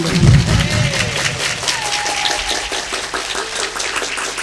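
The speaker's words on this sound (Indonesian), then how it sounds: "tepuk tangan nggak?" An audience at an Islamic New Year gathering at a Qur'an memorization house claps together, a steady wash of applause with some crowd noise, loudest at the start and fading a little toward the end.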